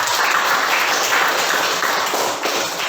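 A classroom of students applauds together, a dense, steady wash of clapping held at even volume for a few seconds before easing slightly at the end.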